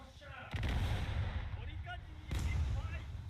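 Incoming gunfire strikes a warship in the naval combat game War Thunder, two heavy booming volleys of impacts about two seconds apart over a rumbling low background, with no voices.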